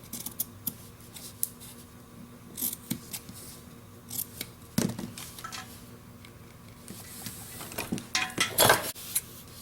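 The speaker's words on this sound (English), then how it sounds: "You can cut off the extra fabric sticking up here and here." Scissors cut fabric for a miniature dollhouse chair, giving scattered crisp snips and small metallic clicks, close and quiet, with short pauses between the cuts.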